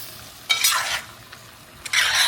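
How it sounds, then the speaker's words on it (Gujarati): Pasta stirred into a spiced masala in a pan, heard as two loud bursts of scraping, sizzling stirring with a quieter gap between, no voices. "તો અહીંયા બધા પાસ્તાને આપણે મિક્સ કરી લઈએ મસાલામાં"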